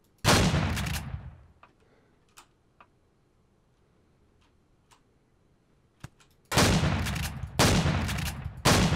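A shotgun fires in Empyrion Galactic Survival: a loud blast, then a few faint clicks over near silence, then two or three heavy shots close together near the end.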